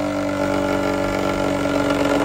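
A small electric motor loaded by magnets hums continuously with a steady, buzzing drone, close and even in level from start to finish.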